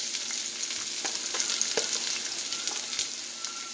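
Onion frying in a pot while fried spaghetti is being made, a steady dense sizzle with scattered crackles and a few soft stirring clinks, close and continuous with no voices.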